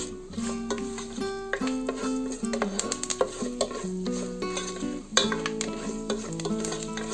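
Cumin, urad dal, mustard seeds, dry chilli and curry leaves tempering in hot oil, crackling and sizzling as a utensil clinks and scrapes the pan, close, with a tonal hum running underneath and nobody speaking.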